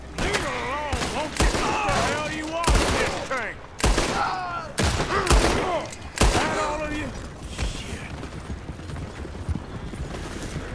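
Rapid gunfire in a Red Dead Redemption 2 robbery shootout aimed at an incoming coach, with sharp loud cracks in bursts over the first seven seconds among shouting voices, then a steadier rumble of movement.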